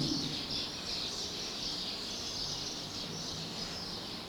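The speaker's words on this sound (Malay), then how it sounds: "Burung-burung berkicauan." Birds chirp continuously at a steady, moderate level in an outdoor rural plantation settlement, mixed with insect-like buzzing, with no talking over the sound.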